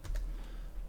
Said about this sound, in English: Q on the keyboard.